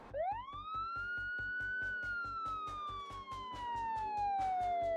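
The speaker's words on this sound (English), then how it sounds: "a police siren cut through the air" A police siren wails loudly and steadily on a quiet street, one long rising then slowly falling tone over a pulsing engine-like throb, heard alone without talk.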